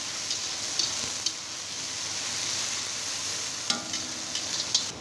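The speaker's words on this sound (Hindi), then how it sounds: "अभी मसाला को अच्छे से फ्राई करूँगा।" Spice paste of ginger, garlic, chilli, turmeric, cumin and coriander frying in a pan for potato curry, a steady close sizzle with a few sharp stirring clicks and scrapes, no talk.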